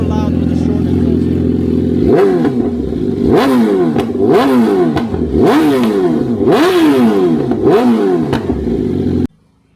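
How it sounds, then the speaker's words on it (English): A BMW S1000RR superbike fitted with a cheap short AliExpress exhaust idles and then revs hard indoors, a loud rapid sequence of about seven sharp throttle blips that ends abruptly. "It's definitely more loud with the short exhaust"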